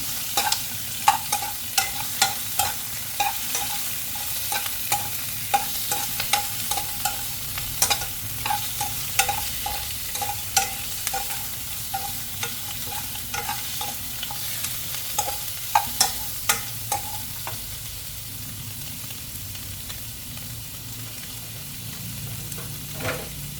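Shrimp are stir-fried in a hot pan for shrimp fried rice with Chinese kale. A steady, close sizzle runs throughout, broken by rapid, rhythmic scrapes and clacks of a spatula against the pan.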